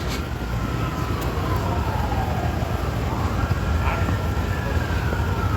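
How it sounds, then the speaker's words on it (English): Police and emergency vehicle sirens wailing at a distance in California, rising and falling tones drifting over a loud, steady outdoor rumble. "You know, I hear more sirens."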